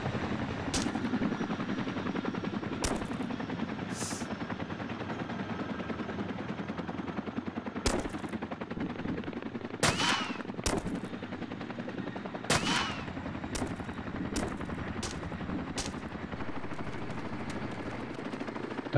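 Gunfire from a helicopter in the military shooter ArmA 2, heard as sharp bursts and single shots scattered over a steady engine drone, fairly distant and moderately loud.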